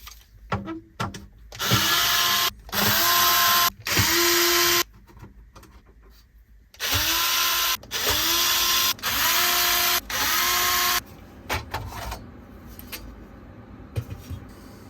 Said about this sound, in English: I think I need to loosen these 3 screws so that this whole part can disconnect, so I can remove the motherboard